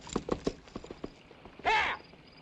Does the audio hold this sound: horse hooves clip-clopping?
yes